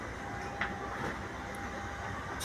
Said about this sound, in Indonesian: Nah, ini gerbong kereta kita teman-teman, ekonomi 1.